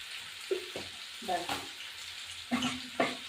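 Moroła fish frying with onion stalks in a pan, a steady close sizzle broken by a few sharp stirring scrapes and clatters.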